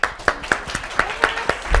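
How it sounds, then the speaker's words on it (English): An audience claps in a steady rhythm, about eight even claps in quick succession, close and fairly loud with no talking. "first, we are going to clap you."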